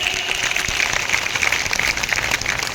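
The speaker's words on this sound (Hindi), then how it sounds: "एक बार माइक पर जोरदार तालियां प्लीज।" Applause from an audience at a devotional gathering with a blessing ceremony, a steady dense patter of clapping that holds at an even level throughout.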